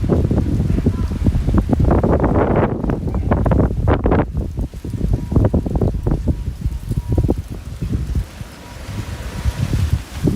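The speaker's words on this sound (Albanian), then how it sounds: "fryn shumë erë këtu, është shumë erë fuqishme" Strong outdoor wind buffeting a microphone in Gramsh, loud rumbling gusts that swell and fade unevenly, with faint speech mixed in.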